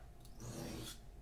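A knife blade is drawn back and forth across a sharpening surface to build an edge, giving a steady, close, continuous rasping scrape with no talk.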